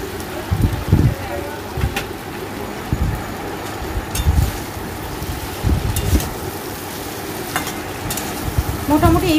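Prepared cashew paste going into a pan of frying niramish aloor dom with softened tomatoes, bringing bursts of sizzling and spattering with stirring clatter through the mix, while a person talks over it.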